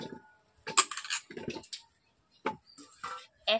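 Washed raw mangoes tipped into a large bowl, a series of separate knocks and clatters as fruit drops and bumps against the bowl, close and intermittent with quiet gaps between.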